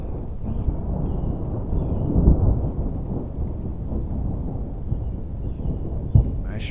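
Thunder from an approaching storm rumbles low and continuous, a deep rolling roar that swells slightly midway, with faint rain-like hiss and no talking.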